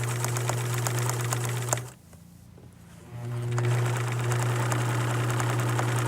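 A sewing machine runs steadily while stitching the seam of a fabric shoe bag, a close, continuous motor hum with rapid needle chatter that stops for about a second, then resumes at the same pace.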